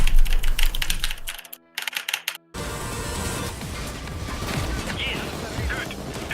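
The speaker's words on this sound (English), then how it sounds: "Furiously typing on his Razer Black Widow keyboard." Rapid keystrokes clatter on a Razer BlackWidow keyboard in dense, fast bursts with a brief gap, set against game sound and a voice talking alongside.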